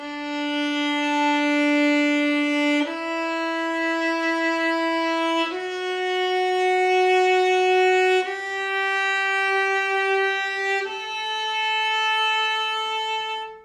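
Five long bowed notes on a string instrument, bowed midway between bridge and fingerboard, each held a few seconds and stepping upward in pitch, with a smooth, even tone and no voices.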